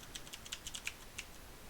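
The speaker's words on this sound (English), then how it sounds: "I'm going to type in Black Knights" Quiet, close typing on a computer keyboard while editing web page code, a brisk run of light key clicks for under two seconds with no talking.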